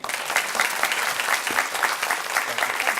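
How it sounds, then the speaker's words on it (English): Sustained audience applause welcoming Harrisburg mayor Eric Pappenfuss at a public affairs forum: dense, steady clapping from a room full of people, loud and continuous throughout with no pauses. "please give a warm round of applause and a welcome to the mayor of Harrisburg"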